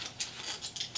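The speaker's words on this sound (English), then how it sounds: "Get the old wrench in here." Quick, crisp ratcheting clicks from a wrench being worked during maintenance, several close rhythmic bursts within about a second, quiet and alone.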